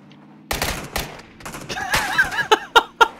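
Gunfire in PlayerUnknown's Battlegrounds: a run of sharp game gunshots and bursts starting after a quiet moment, ending with several separate loud cracks, with a voice speaking briefly among them.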